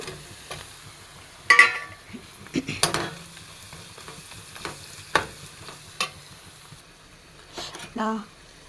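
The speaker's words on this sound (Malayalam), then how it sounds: "ഇതൊന്ന് വഴറ്റിയെടുക്കാം നന്നായിട്ട് ഈ തക്കാളി കട്ട് ചെയ്ത് ഇട്ട് കൊടുക്കാം" Chopped tomatoes sautéing in a pan give a soft, intermittent sizzle broken by sharp scrapes and stirring knocks of a spoon, with a quiet hiss in the gaps between strokes.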